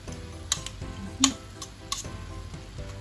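Marinated beef bulgogi sizzles while being stir-fried in a pan, a low crackle broken by a few sharp metallic clinks and scrapes of the utensil against the pan, with no talking.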